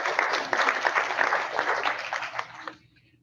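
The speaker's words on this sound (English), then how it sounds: "Big round of applause for you all for coming out tonight" Audience applause at a continuing-education event on corneal crosslinking, a dense burst of many hands clapping for nearly three seconds before tapering off quickly.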